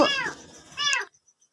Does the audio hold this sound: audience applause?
no